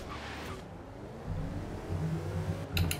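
SUV engines in a Forza race, a rising rev and growl of several vehicles accelerating together, building in loudness toward the end with a sharp burst of noise near the close.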